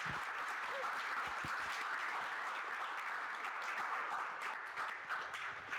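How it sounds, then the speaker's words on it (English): An audience gives a lecture speaker on Black ecologies of the Great Dismal Swamp a sustained round of applause: dense, steady clapping from many hands that fills the whole stretch at an even level. "let's give Dr. Golden another round of applause"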